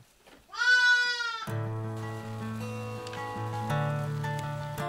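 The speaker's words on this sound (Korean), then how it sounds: "양과 염소떼가 방향을 맞춰 어디론가 이동합니다" A flock of sheep and goats on a steppe ranch; one long, loud, wavering bleat rings out, then a sustained chorus of overlapping bleats continues steadily from the herd.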